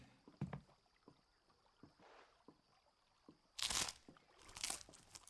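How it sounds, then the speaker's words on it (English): Crunchy tavern bread eaten in Final Fantasy XVI, faint scattered crackles that rise into two louder, close bursts of chewing crunch near the end. "Some crunchy bread."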